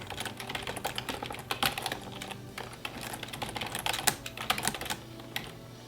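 Steady, fast typing on a computer keyboard, with dense clicking keystrokes running continuously, close and moderately loud, and no talking.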